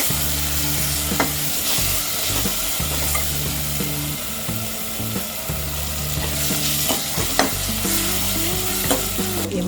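Soup mixture with salt and turmeric stirred in a pan, a spoon scraping and clattering in a steady, close rhythm over a constant sizzle, with no talk.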